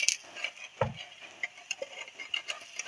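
Semolina breakfast cakes cooking in a pan over medium-low heat, with faint sizzling and light patter plus a utensil clink against the pan, quiet and close with no speech.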